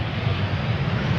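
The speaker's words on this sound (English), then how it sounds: "Vueling up next, arriving from Barcelona" A Vueling airliner in from Barcelona approaches Amsterdam Schiphol, a brief, steady low engine roar at moderate distance with no speech.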